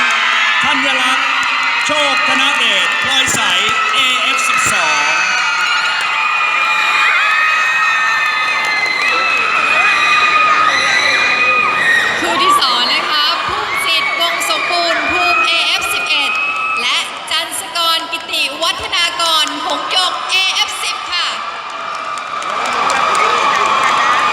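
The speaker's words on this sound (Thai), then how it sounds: "ขอเสียงปรบมือ" Crowd cheering, whooping and clapping ring out at a Thai ballroom dance event featuring True Academy Fantasia performers, a loud, dense roar with shouts over music-like tones that holds steady, dips briefly, then swells again.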